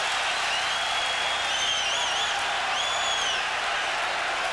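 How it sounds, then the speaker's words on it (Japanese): A large crowd roars and cheers in a boxing arena in Germany during a light heavyweight world title fight, a dense continuous wall of sound with a few whistles rising above it. "良い歓声です"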